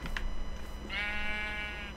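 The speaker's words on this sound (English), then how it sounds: "these sheep are truly stupid" Sheep bleating in the Minecraft video game, a sustained, fairly loud wavering bleat following a couple of short clicks and game noises, with no talking over it.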